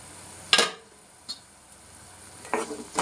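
Mullet fish curry frying in a pan, a low steady sizzle broken by a few sharp stirring or lid clatters, close up with no talking.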